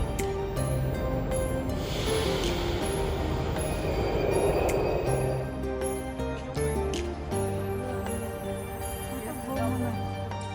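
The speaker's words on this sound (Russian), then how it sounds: "Спускаемся в метро и едем до станции Кремлевская." Ride on a Kazan metro train: a steady rumble of wheels on rails with a rising whine as the train runs, occasional clacks and squeals, loud and continuous throughout.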